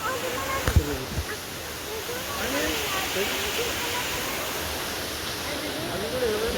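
Continuous rushing water spills and splashes steadily into a pond at Bhoga Maheshwaram temple near the Dindi project, a broad wash of noise with a few faint knocks near the start.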